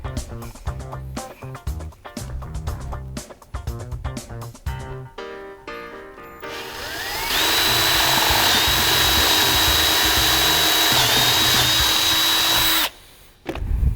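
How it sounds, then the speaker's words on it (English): A power drill bores a hole through cypress wood for screws in a beer flight board build, first with choppy clattering bursts, then one loud sustained whine for several seconds before stopping abruptly. "We're going to drill a hole through here."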